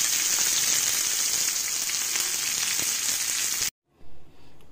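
Cumin, black pepper and other spices frying in a pan for green chicken, a bright dense sizzle that runs steadily and then cuts off abruptly, leaving near silence with a brief faint rustle.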